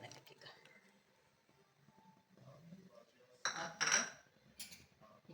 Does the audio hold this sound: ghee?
yes